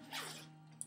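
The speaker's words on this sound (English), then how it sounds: "I unzip it." A zipper is pulled open in one quick rasping stroke, close and fairly loud, followed by a brief tick near the end.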